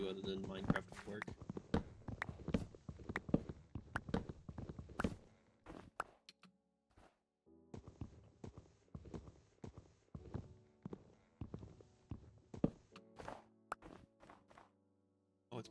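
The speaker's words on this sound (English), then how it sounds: "Oh, it's my footsteps." Minecraft footsteps patter in a steady run of soft, close thuds, stopping briefly and then starting again, with a voice talking over them at times.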